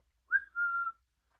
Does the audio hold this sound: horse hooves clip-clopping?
no